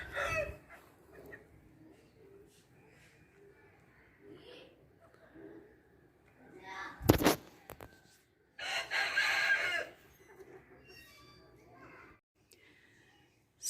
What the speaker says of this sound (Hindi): परिंदों की आवाज़ें